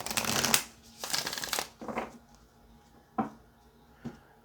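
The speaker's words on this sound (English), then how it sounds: "Let's get one more shuffle for Aries." Tarot cards being shuffled by hand, several close, loud riffling bursts in quick succession, then two brief softer card taps as the deck settles, with no talking.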